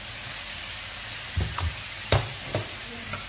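Chopped carrots hit a pan of frying ingredients with green chilies, a constant sizzle overlaid by a few louder stirring knocks and scrapes in the second half, close up with no talking.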